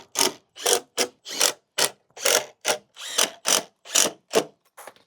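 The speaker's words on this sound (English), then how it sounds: "you can stand it up now and then keep screwing them in" Screws driven one after another into timber while building a wooden skateboard kicker ramp, a steady series of about a dozen short, close ratcheting bursts with brief gaps between them.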